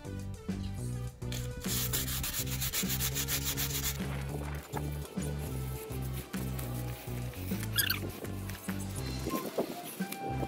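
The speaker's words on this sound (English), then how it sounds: "I'm sanding the wood so the paint will stick." Wood on an old corkboard being sanded by hand: rhythmic, close rubbing strokes in quick back-and-forth repetition, steady and fairly loud, with brief pauses near the end.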